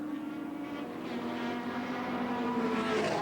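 Opel Manta and Vauxhall Carlton saloon racing cars at Brands Hatch in 1987, engines droning steadily and loudly with a rising pitch sweep as the cars pass downhill, no talk over it.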